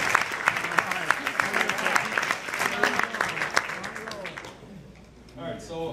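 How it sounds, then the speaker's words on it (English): A soccer banquet audience claps steadily for several seconds with a few voices in the mix, then the applause fades and someone begins speaking. "So let's give them a round of applause."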